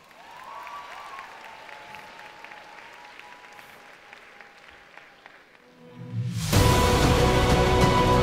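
A quiet, faint tonal stretch gives way abruptly to loud, dense applause from a cosplay contest audience, bursting in near the end and continuing strongly.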